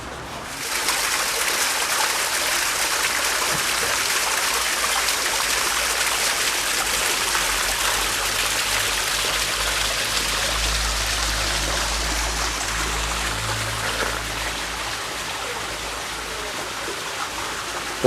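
Iron-rich spring water at Chalice Well in Glastonbury flows and trickles steadily, a continuous close hiss of running water lasting throughout with no one speaking.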